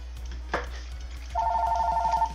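A telephone rings with a steady electronic tone beginning partway through, preceded by a single soft knock, in an otherwise quiet room.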